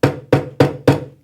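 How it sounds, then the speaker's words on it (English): The rubber face of a hammer taps a furniture leg down during kitchen appliance housing assembly, four evenly spaced, close, solid knocks that each ring briefly before the next. "using the rubber part of the hammer, just"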